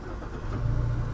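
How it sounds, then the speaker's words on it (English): A 2016 Mazda 6 engine starts with the push button, a brief low rumble swelling into a steady idle at close range. "In order to start the engine, put your foot on the brake and then hit the button start."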